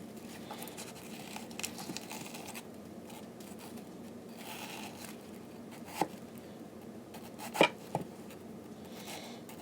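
A knife cutting into an onion to hollow out its shell, quiet scraping and cutting strokes with a few sharper clicks near the end, close but faint, with no talk.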